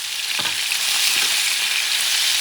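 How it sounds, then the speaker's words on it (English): Chicken pieces searing in a hot pan for a Puerto Rican chicken stew, a steady loud sizzle with a couple of faint scraping touches from turning the pieces, no voices. "you're going to sear these babies for about 5 or so minutes"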